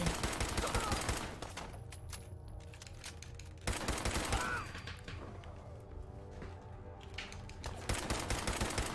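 Player's gun fire in the video game Fallout 4, sustained rapid bursts of gunfire in several stretches, loud and close, with brief quieter gaps between bursts.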